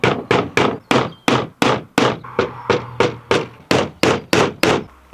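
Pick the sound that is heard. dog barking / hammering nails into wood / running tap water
hammering nails into wood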